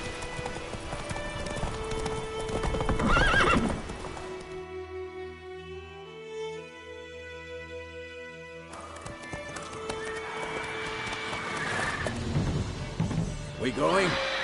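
Horse hooves clip-clop at a gallop in The Witcher 3, loud and rhythmic, fading into a calmer musical stretch midway before the hoofbeats return, with a horse neighing and speech heard over them.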